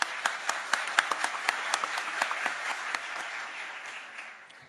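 Audience applause at a CAF executive committee election session, a crowd clapping steadily with sharp individual claps standing out at first, then blending into a dense wash that slowly fades, with no talk over it.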